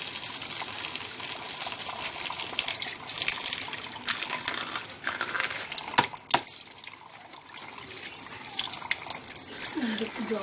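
Water gushes and splashes into a cooking pot for raw mango jelly, a faint, continuous pouring sound with occasional clinks close by.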